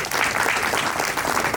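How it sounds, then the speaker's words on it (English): Audience applause at a CIPS event, a dense, steady patter of many hands clapping close by throughout, without pauses. "So let's clap for him,"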